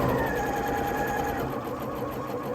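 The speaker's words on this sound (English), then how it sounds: "I'm going to sew up to the end dot." A sewing machine stitches the last stretch of a kids' winter crown up to the end dot in one continuous, loud, close mechanical whir with rapid needle chatter and no talk.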